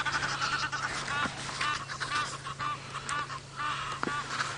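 Egyptian geese honk repeatedly in the background, a chattering, overlapping chorus over steady low ambient noise.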